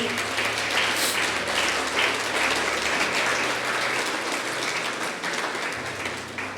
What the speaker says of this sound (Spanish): Dale otro fuerte aplauso a Dios.